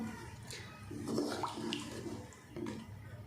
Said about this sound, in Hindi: अब हम 1 गिलास इसमें पानी का ऐड कर देंगे।